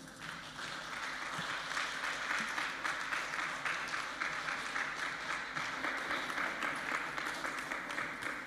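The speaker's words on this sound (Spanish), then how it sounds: "Vamos a dar aplausos, por favor." An audience at a Christian leaders' congress in Chile applauds steadily for about eight seconds, a sustained wash of many hands clapping at moderate volume, heard from within the hall with no clear speech.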